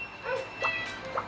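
A dog in the video game Harvest Moon 64 makes two short, high whimpering yips with a gap between them. They sit over a faint game background tone and are not heard under any speech.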